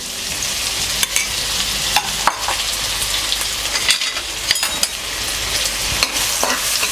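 Chopped onions sizzle and fry in a pan with cumin while a spoon stirs them, a steady crackling hiss broken by repeated scraping knocks, close and loud, with no talking.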